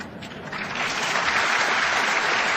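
A crowd applauds Chris Christie's speech, the clapping starting thin and hesitant, then swelling into a dense, steady roar of many hands that stays loud to the end.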